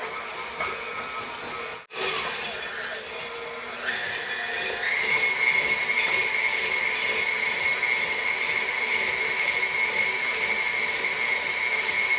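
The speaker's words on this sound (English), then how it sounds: "put it in the bowl of your stand mixer along with your butter, and we're just going to cream that together" A stand mixer creaming brown sugar with butter for banana bread: a brief clunk, then the motor whirs up to a steady, moderately loud hum with a high whine, running continuously with no talking.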